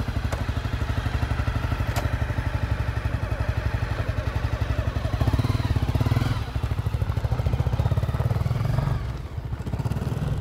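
A Honda CRF250L Rally 250cc motorcycle rides a short lap, its single-cylinder engine pulsing in a steady, rapid thumping rhythm, close and fairly loud with slight rises in revs.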